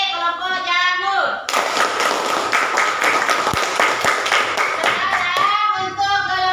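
A primary-school class in Indonesia claps for a student group, a dense burst of many small hands lasting several seconds, with children's voices before and after it.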